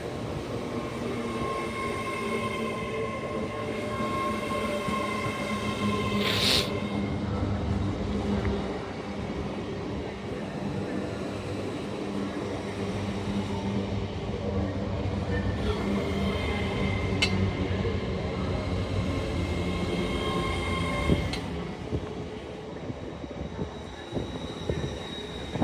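An LNER Azuma train from London King's Cross to Edinburgh Waverley arrives at York station on the East Coast Main Line with a long, steady rumble and whine, a faint hum running beneath, and brief sharp squeals and clanks as it slows.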